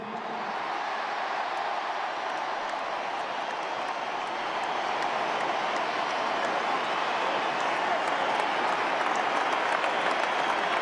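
A large stadium crowd cheers and applauds steadily at a presentation, a dense, continuous roar of clapping and voices that holds at an even, loud level throughout.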